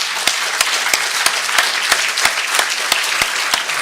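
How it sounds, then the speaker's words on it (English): Audience applauding a discussion panel at a talk on children loving mathematics, a steady dense wash of clapping with a few sharper nearby claps standing out, loud and close, with no talk over it. "Let's have a round of applause for our panelists."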